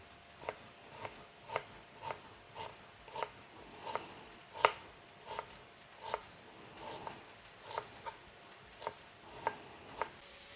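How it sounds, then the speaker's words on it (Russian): A knife slices an onion into thin quarter rings on a board, making a steady run of about twenty crisp, evenly spaced chops close by. "Лук нарежу тонкими четвертькольцами"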